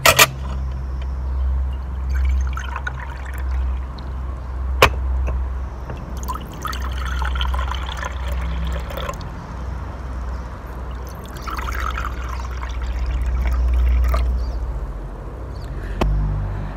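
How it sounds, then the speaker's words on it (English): Water poured from one container into several others during a children's gummy bear experiment, with trickling and splashing streams in separate bursts and a few clinks of containers, close to the microphone. "you are going to pour about the same amount of water into each of the other water containers"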